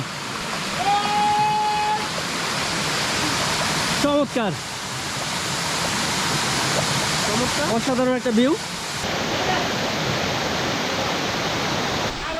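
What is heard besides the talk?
Chingri waterfall in Bandarban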